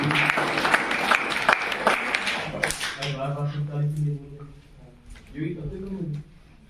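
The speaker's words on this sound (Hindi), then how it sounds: "तालियां बजाएं" A brief burst of group clapping at a school farewell program rattles at the start and fades within a couple of seconds, followed by someone speaking.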